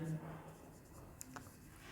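Pen or marker scratching softly across a surface during a class 7 maths lesson on symmetry, a few faint, brief strokes in a quiet room with no one talking.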